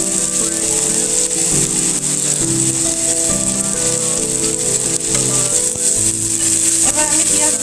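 Chopped onions and garlic fry in hot oil in a pan, a loud, steady sizzle that runs throughout beneath background music.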